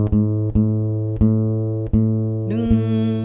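The fifth string of an acoustic guitar is plucked repeatedly during tuning by ear, giving about five close, ringing single notes that overlap and sustain, with the pitch shifting slightly on the last one.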